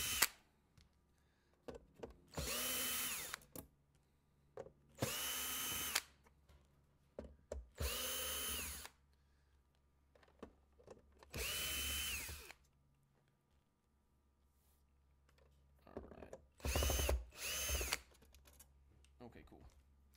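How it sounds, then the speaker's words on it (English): A cordless power drill backs screws out of a fighting board in short whirring bursts, about six separate runs with pauses and a quick double burst near the end, close and loud. "Go ahead and just take these off with the drill."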